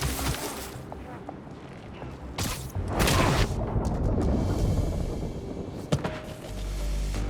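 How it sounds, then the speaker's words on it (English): A few booming firework bursts go off amid a dense, noisy soundscape in Marvel's Spider-Man 2, one loud crack standing out before a low rumble. "Wait, those fireworks are lit?"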